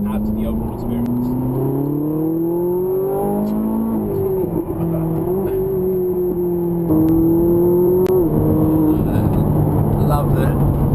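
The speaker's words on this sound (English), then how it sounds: "I love the noise of that V8" A Ferrari 458 Italia's V8 engine revs and climbs through the gears from inside the cabin, a loud rising drone with distinct pitch steps between shifts, while someone talks over it.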